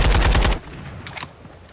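An automatic weapon fires in a video game, a loud rapid burst of about six shots with a short fading tail afterward.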